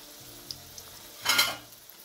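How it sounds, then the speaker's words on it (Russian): A short burst of sizzling as chicken cutlets hit hot oil, swelling for a moment then settling back to a quiet crackle in a pan. "жарим до золотистого цвета. Затем переворачиваем наши котлетки."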